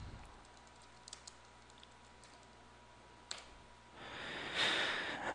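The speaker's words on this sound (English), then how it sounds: "you can type whatever you want on this document" Soft keystrokes sound faintly on a computer keyboard while writing in a Google document, then a burst of quicker, louder typing near the end against a quiet room hum.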